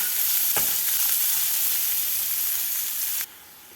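Finely chopped onions, green chillies and curry leaves sauté in a pan for ragi onion dosa, a loud, dense hiss of sizzling with a brief stir knock early on, dropping suddenly quieter near the end.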